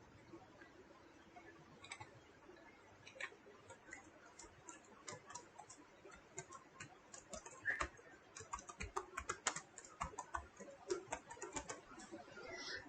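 Typing on a computer keyboard while filling in mail merge records, with quiet scattered key clicks that grow into quick, busier bursts toward the end, heard close and alone over faint background hiss.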